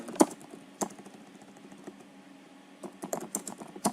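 Computer keyboard typing while configuring EIGRP authentication on network equipment: scattered sharp key clicks, a few isolated strokes early and then a quicker burst of taps near the end, close and fairly quiet in an otherwise silent room.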